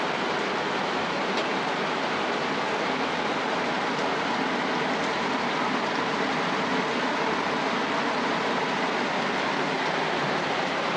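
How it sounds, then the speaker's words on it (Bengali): Heavy rain pours steadily outside, a dense, even roar that holds at one level throughout with no talk. "প্রচুর বৃষ্টি, এখন ঢল বৃষ্টি।"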